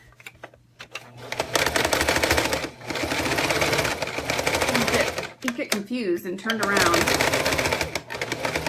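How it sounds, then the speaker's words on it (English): A sewing machine runs in bursts while stitching along an existing seam of a zipper, its rapid mechanical whir close and fairly loud, alternating with pauses as someone talks over and between the stitching. "we're going to sew on this side along our seam that we've already created, along the stitch that we've already got"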